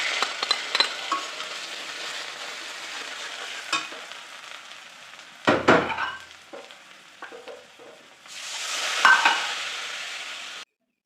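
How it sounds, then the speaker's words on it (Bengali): Cumin and ground spices such as chili, turmeric, coriander and cinnamon sizzle in hot oil in a wok for a Bengali egg and potato curry, with clinks and scrapes from a utensil and a sharp burst of fresh frying near the end. "এখানে আমি সামান্য জিরা ফোড়ন দিচ্ছি।"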